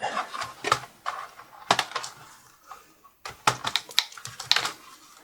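Plastic clicks and snaps as the keyboard of a Lenovo ThinkPad T510 laptop is pried up from its access points, a series of sharp close taps in uneven bursts with brief quiet gaps.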